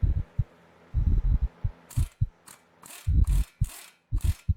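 Ratchet wrench tightening the front brake caliper carrier on a Pontiac G8, heard up close as several short bursts of rapid clicking separated by brief pauses, with no talking.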